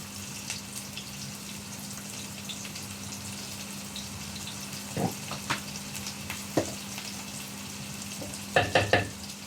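Chopped onion, garlic and ginger fry in a pan, a steady low sizzle with occasional stirring scrapes and clinks, building to a few sharper knocks near the end, close and moderately loud with no voices.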